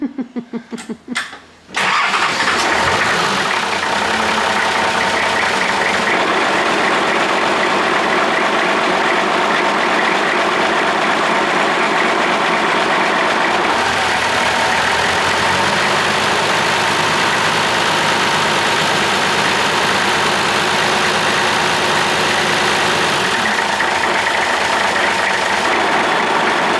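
A rebuilt Nissan TD42 diesel idles loud and close after a short starting burst, running as a steady rough clatter for the whole stretch, with no voices.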